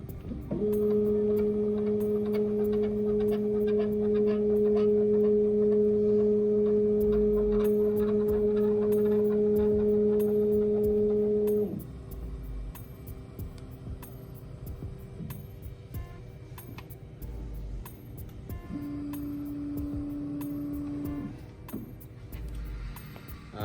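A 3D printer prints a small pharmaceutical tablet, giving a steady motor whine that holds for several seconds, then softer, shifting whirs and a brief tone amid faint mechanical ticking.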